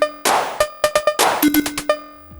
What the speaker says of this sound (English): So first I will add some additional drums using the Korg Volca drum.